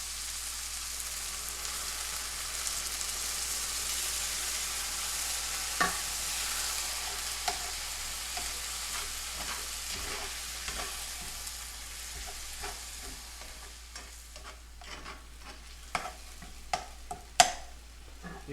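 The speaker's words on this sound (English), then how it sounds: "we're going to deglaze our pan after with about a half a cup of" Ground beef for a spicy hot dog chili sauce simmering as the pan is deglazed with broth, a soft hiss and bubbling broken by spoon clicks and scrapes that grow busier toward the end.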